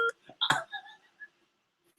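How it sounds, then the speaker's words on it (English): Telephone keypad tones as a phone call is dialed, a short run of brief electronic beeps close by with gaps between them, quiet overall. "I'm going to make a phone call."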